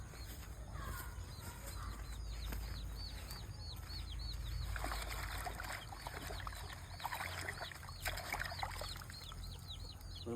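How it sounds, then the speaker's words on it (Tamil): Freshly pulled radishes from a home vegetable garden are swished and rinsed in water, producing soft, repeated splashing and sloshing, while birds chirp steadily in the background. "இப்போ தண்ணியில் அலசிக்கும்."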